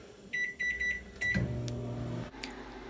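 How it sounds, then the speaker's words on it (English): A microwave oven used to warm up salmon gives a short run of beeps, then its motor starts a steady, low, close hum that runs to the end before a brief click. "waiting for the microwave, waiting for something to cook"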